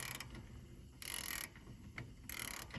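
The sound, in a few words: ratchet wrench turning and ratcheting backwards on a car lift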